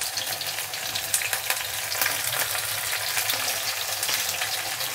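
Onions and green curry leaves fry in hot oil with a steady, dense sizzle, close and continuous, with faint stirring crackles and no voices.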